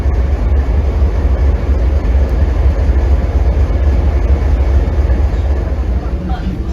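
A local freight train rolls past close by, a loud continuous low rumble and rail roar that holds steady from start to finish with no talk over it.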